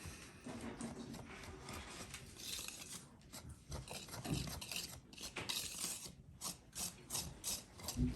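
Sourdough bread ingredients being mixed together make quiet, uneven rubbing and scraping sounds in irregular strokes, close and faint.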